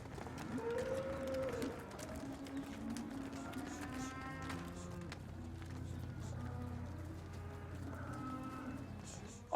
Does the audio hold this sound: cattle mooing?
yes